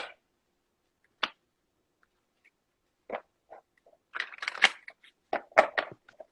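Cards being shuffled by hand, a handful of short, soft riffling and snapping bursts separated by silence, growing busier toward the end, fairly quiet and close.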